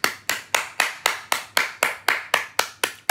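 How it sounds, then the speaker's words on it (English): A single pair of hands claps about a dozen times in an even, steady rhythm. Each clap is sharp and close, and no voices are heard. "Round of applause for FLAKKO for asking the right questions"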